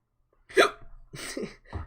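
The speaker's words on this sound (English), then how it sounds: "I got the hiccups." Several hiccups from one person, three short sharp catches spaced about half a second apart, close and clear against near silence.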